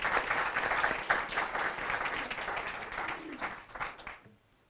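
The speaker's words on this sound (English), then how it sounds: "Let's have one round of applause for all of our spellers" Applause at a school district spelling bee rises for all the spellers, a dense burst of clapping that swells early, then gradually thins and dies away into quiet.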